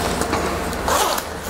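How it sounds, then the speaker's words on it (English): A zipper on a Joe Rocket Ballistic Revolution textile motorcycle jacket is pulled down in one steady, close rasping run lasting over a second, with no talking. "if you go ahead and zipper this down"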